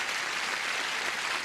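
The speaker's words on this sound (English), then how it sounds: "Applause." Brief burst of studio audience applause on a Match Game '79 game show set, steady dense clapping at moderate level.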